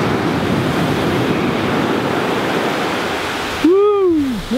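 Ocean surf at Malibu Beach rolls in as a loud, continuous wash of breaking waves, rough with wind noise on the microphone, and a brief voice cuts in near the end.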